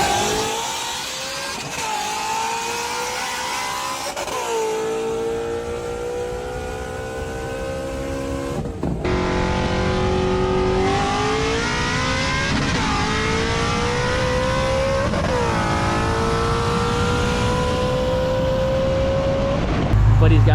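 A Dodge Hellcat with a cam and a Shelby GT350 race side by side, engines droning loud and close with rising and falling rev sweeps as gears climb and shift.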